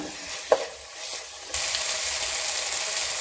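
Onions with two spoons of ginger garlic paste sautéing in a pan until brown: a steady sizzle and frying hiss that swells louder partway through, with an occasional stir or clink of the spoon.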